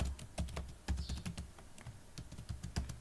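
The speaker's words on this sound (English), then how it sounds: "just type in your password" Fingers tap quickly on a computer keyboard, a close run of light, uneven clicks with brief pauses, quiet and without any talking.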